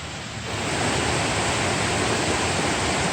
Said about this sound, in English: The Kimsey Creek trail is a small stream right here.